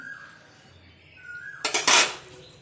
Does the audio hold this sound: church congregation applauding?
no